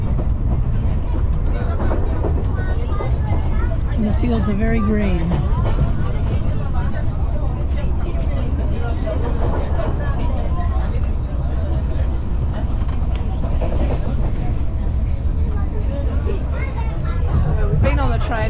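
A passenger train on the Colombo to Nanu Oya line in Sri Lanka rumbles steadily past wet paddy fields, a loud continuous rolling drone heard from inside a carriage while someone talks over it.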